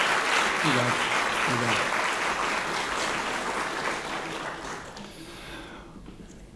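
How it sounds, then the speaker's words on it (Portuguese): A lecture audience at a Catholic university event applauds to thank the professor, steady broadband clapping that fades out toward the end while a voice says thanks over it. "pedimos mais uma salva de palmas em agradecimento ao professor"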